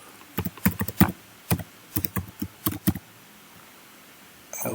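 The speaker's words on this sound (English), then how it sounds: "We just type our password," Password being typed on a computer keyboard during Windows domain controller setup: about a dozen crisp, close key taps in quick irregular bursts over roughly three seconds, then quiet room tone.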